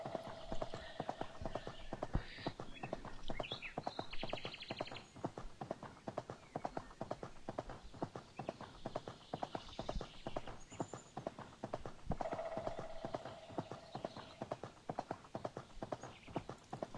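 Horse hooves clip-clop steadily in a riding video game, Horse World 3D, with a fast even rhythm running throughout, close and clear, with occasional faint whinny-like tones and no talking.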